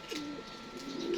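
Racing pigeons coo softly nearby, low rolling calls repeating over about a second, with faint chirps in the background.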